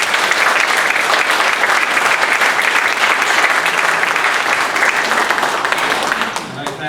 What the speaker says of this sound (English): she deserves a round of applause for it